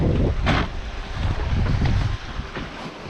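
Strong wind roaring across the microphone on a sailboat running under a cruising chute, with rushing water and waves along the hull, a loud steady buffeting with no talk.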